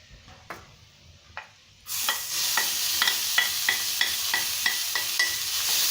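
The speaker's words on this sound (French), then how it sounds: "je fais revenir les oignons" Onions sautéing in a tablespoon of hot oil in a frying pan for meat samosas. A loud sizzle starts abruptly and stays steady, with regular stirring scrapes over it, close and alone.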